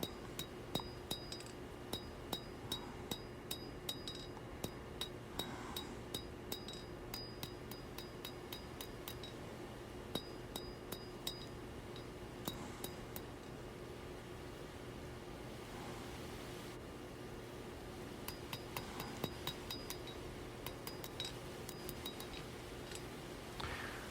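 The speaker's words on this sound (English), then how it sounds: "just use the hammer and bring everything pretty close to the final shape" Hammer strikes ring out on a camp knife blade worked on the flat face of an anvil, coming in quick, irregular bursts of metallic clinks, fairly faint over a steady background hum.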